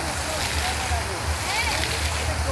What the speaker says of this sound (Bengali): দেখো এখান থেকে জল নামছে, এখান থেকে জল নামছে, কন্টিনিউ জল নেমে যাচ্ছে।